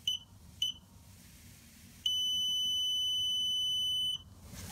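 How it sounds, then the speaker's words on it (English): A KingSong 16S electric unicycle beeping during calibration: two short high beeps, then one long sustained tone lasting about two seconds before it cuts off, clear over a quiet room background. "When the long beep comes up, you can turn off the KingSong."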